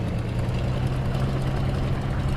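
Engine running steadily at around 1200–1300 RPM with a low, heavy, even drone that holds at a constant loud level, with no talk over it.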